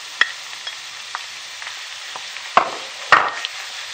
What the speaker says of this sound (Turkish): Salçamı da kavuruyorum.